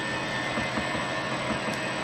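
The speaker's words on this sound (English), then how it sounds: "So when the mill's turned on, I just push this button right here, and I can speed it up and stop it or reverse" A Wells Index 645 milling machine spindle runs with a steady, even mechanical whir and hum, loud and close, with no talking.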